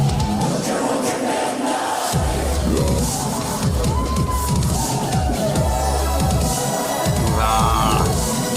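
A concert crowd chants along during a song, loud massed voices over dense, pounding heavy metal music with driving drums, continuing throughout.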